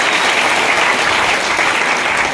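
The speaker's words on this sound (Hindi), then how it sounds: "एक जोर से ताली आपके लिए बजाइए।" Loud, steady applause from an audience at a Nallasopara company meeting, dense clapping sustained without a break and close to the microphone.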